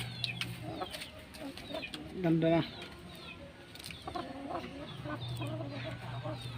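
A rooster clucks in short bursts nearby while a person speaks briefly in Filipino, with quiet background noise.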